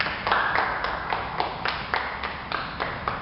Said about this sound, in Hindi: प्रणव जी के लिए तालियां।